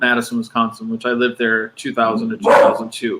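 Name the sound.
dog barking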